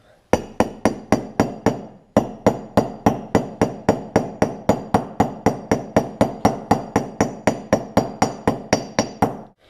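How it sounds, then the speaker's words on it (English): A hammer taps the outer race of a Yamaha Blaster wheel bearing in a rapid, even series of sharp ringing metal strikes, close by, with a brief pause before the tapping resumes at the same pace. "Just lightly tap around the edges of the outer race to evenly get the bearings started."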